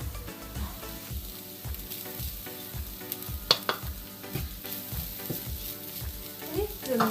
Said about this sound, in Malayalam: തേങ്ങ നമുക്ക് ഇതിനകത്തേക്ക് ഇട്ട് കൊടുക്കാം.